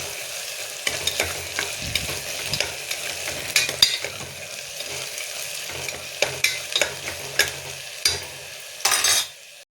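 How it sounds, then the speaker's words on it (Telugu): Garlic paste frying in a pan for Karnataka-style tomato rice bath, a steady oily sizzle under repeated scraping spatula strokes and ladle clinks, close and lively, ending with a brief louder rattle, no one speaking. "దానిలో పచ్చి వాసన పోయేంత వరకు ఇలా వేపుకోవాలి"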